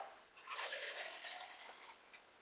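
Water poured into a jug with sliced strawberries and lemon to make infused water, a faint, close, splashing trickle lasting about two seconds.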